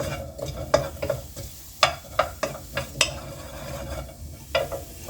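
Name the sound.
onions sizzling and being stirred in a pan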